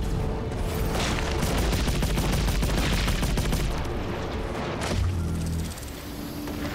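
Sustained rapid gunfire from a PlayStation VR shooter game, dense repeated shots in a loud continuous barrage with a booming low rumble, easing off near the end.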